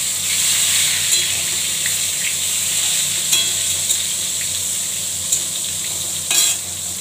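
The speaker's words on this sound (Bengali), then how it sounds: "হালকা করে ভেজে নেব।" Eggplant frying lightly in hot oil, a loud steady sizzle close by, broken by a few sharp spatula scrapes and clinks against the pan.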